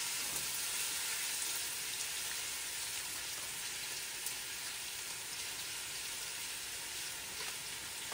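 Ginger sizzles in hot oil in a non-stick pan, a steady, soft, close hiss of frying that continues without pause and with no voices.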